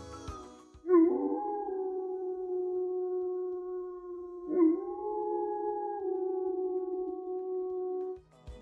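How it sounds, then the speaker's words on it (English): A wolf howls in two long, sustained tonal calls, each beginning with a sharp rise and then holding a steady pitch, clear and alone against a quiet background. "It's a wolf!"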